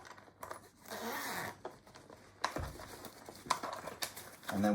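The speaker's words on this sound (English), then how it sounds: "Under here is a zipper." A zipper on Joolz stroller bassinet textiles is pulled open in several short scratchy bursts, with fabric rustling and handling noises between the pulls.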